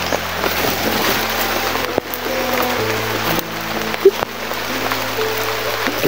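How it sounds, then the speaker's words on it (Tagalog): Steady rain falling outdoors, a continuous wash of drops with a low engine-like drone underneath and a few sharp knocks. "Ito na umuulan."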